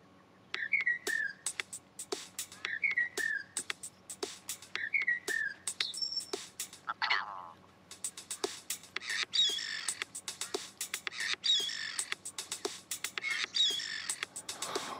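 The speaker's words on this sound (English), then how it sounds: "We recorded the call of some birds and made this." Recorded bird calls edited into a short, funny song, with rhythmic repeated chirps and whistles in a looping pattern, fairly quiet with sharp clicks between phrases.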